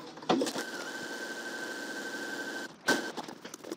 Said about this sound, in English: we're gonna go back and sew it again, just on the inside, about 1/8 of an inch to the side, just to reinforce that seam